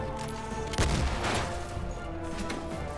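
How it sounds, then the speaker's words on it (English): Cannon shot attack in the Ironcast mech combat game, a heavy blast near the start that rolls into a rumbling, ringing tail over dense background game noise and music. "Go for a shot cannon attack"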